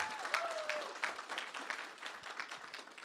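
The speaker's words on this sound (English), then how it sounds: "Please give a big round of applause" An audience at a student leadership event claps in a steady wash of applause for several seconds, moderately loud and fairly even, with a faint whistle-like tone near the start.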